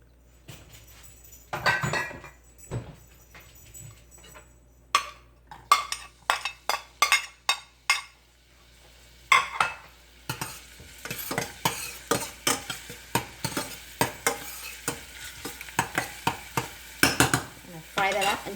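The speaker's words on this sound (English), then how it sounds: "And we're gonna saute some garlic." Garlic sautés in a pan with a light sizzle, punctuated by a rapid run of sharp clinks and scrapes from a utensil stirring against the metal.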